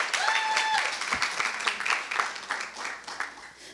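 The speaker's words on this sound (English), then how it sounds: "So let's give Katie a round of applause" An audience applauds a presenter after a climate change talk, giving several seconds of steady clapping. A brief whistle or cheer sounds early on, and the clapping stays fairly even throughout.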